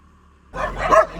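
A dog gives a single sharp, loud bark close by that breaks a quiet moment and then trails off into a brief echo.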